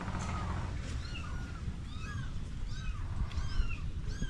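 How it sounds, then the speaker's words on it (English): Several cats meow loudly in the background, repeated overlapping cries throughout over a steady ambient hum. "Hear the cats in the background. They're just loud."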